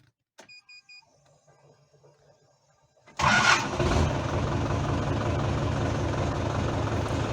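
A warm Ursus C-4011 tractor diesel with a Lucas CAV DPA injection pump is cranked after a few faint clicks and quiet moments, firing up loudly and settling into a steady, rough idle close by.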